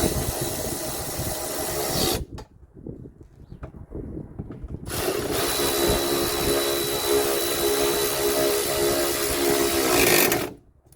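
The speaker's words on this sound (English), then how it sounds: "this is just like a regular ratchet" Milwaukee power ratchet tightening the spare tire mount on a 1996 Geo Tracker, a loud close whirring run that stops, a brief quiet gap with small clanks, then a second longer whir before cutting off.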